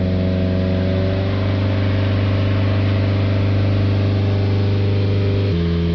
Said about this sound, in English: So start the vehicle up, hold the revs up around 3000 RPM.